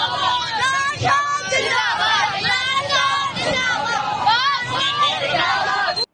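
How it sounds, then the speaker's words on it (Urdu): Children's voices chant slogans amid a loud, dense crowd at a street procession, overlapping shouts and rhythmic calls filling the whole stretch without pause. "وہ بچے جو ہیں وہ عمران خان زندہ باد کے نعرے لگا رہے ہیں"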